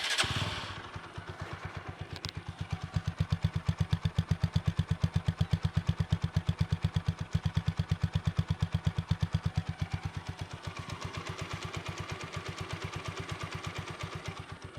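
A used TVS Apache RTR 4V 160cc ABS motorcycle with double discs starts and settles into a steady idle, its rapid, even engine pulses close and loud with no one talking.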